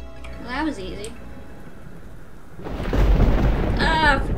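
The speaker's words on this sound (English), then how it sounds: "Storm is getting worse." A thunderstorm rumbles in the video game Heartbound, with a low, steady roll that swells into a louder burst of thunder and rain noise partway through, while a voice speaks over it at the start and end.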